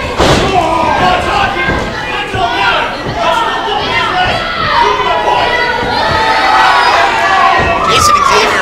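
A large wrestling event crowd jeers and shouts at a wrestler, a loud, dense roar of voices that stays constant, with a few sharp thuds and a commentator talking over it.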